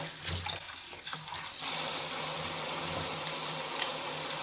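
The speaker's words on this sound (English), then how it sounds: "I'm using warm water. Just going to rinse both sides." Warm tap water runs over a tactical dog harness as both sides are rinsed of soap, with a broken splashing at first and then a steady, loud, close rush of water.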